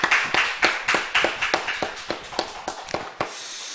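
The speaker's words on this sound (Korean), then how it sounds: "하나님 앞에 영광의 박수 올려드리도록 하겠습니다" A group claps in a steady, even rhythm, each clap ringing in a reverberant church hall, with no voices over it, during a Friday night prayer service.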